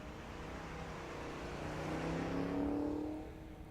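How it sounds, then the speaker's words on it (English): A 4-cylinder stick-shift car runs at a drag strip, its engine droning steadily and rising in pitch as it accelerates before easing off, heard from a distance over open-air noise. "This has got to be a 4-cylinder stick shift car."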